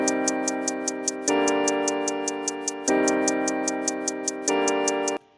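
Programmed hi-hat pattern in FL Studio 20 with randomized velocities, steady rapid ticks over a sustained chord pad that restarts in blocks, loud and alone.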